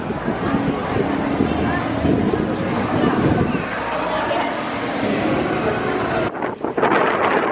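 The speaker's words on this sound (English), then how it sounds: "Probably can't hear me because it's quite windy" Rough wind buffets the microphone in a constant roar, with chatter and crowd noise underneath, then a brief drop before the gusts return.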